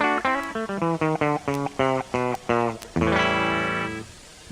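A Music Man Axis Super Sport electric guitar on a clean patch through an effects unit into a Vibrolux Reverb amp plays a quick run of separate plucked notes, then a loud strummed chord that rings out and slowly fades.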